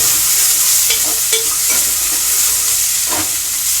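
Curry leaves and chopped onions are stirred in a hot pan for a prawn and sorrel curry: a loud, close, continuous sizzle broken by a few scraping strokes of the spoon, with no talking.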